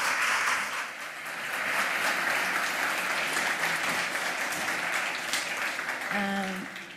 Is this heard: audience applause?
yes